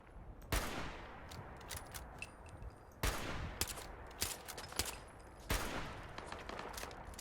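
Gunfire in Fallout 76, three sharp separate shots at roughly even intervals, each trailing into rattling echoes and smaller clicks, fairly close and moderately loud.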